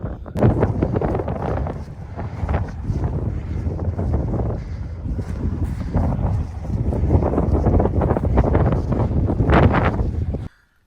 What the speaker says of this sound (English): The sun, the last of the sun just gone down, the wind has picked up.